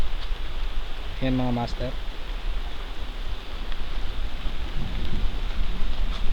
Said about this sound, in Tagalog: So yan, umuulan pa.